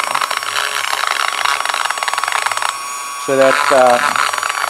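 A Dremel tile cutting bit spinning at about 10,000 RPM roughs up the intake port of a chainsaw, a buzzing high-speed grind that drops away near the end, where a voice cuts in briefly.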